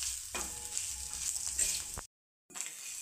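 Onion and bitter gourd with crushed peanuts stir-frying in a pan give a soft, steady sizzle with scraping stir strokes. The sound cuts out briefly and then resumes.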